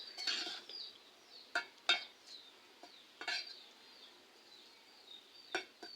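Cumin powder is stirred into a potato and vegetable curry in a pot, producing a handful of close scraping and clinking strokes of a spoon against metal over a soft, quiet simmer.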